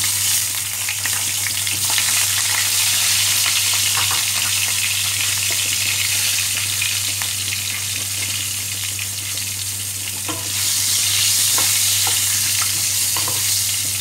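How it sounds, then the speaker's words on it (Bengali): Potatoes with turmeric fry in oil in a wok, a loud, steady sizzle with a constant low hum and occasional stirring scrapes. "এবার আমি কড়াতে একটু হলুদ দিয়ে দিচ্ছি, হলুদ দিয়ে আমি এই আলুগুলো ভাজবো।"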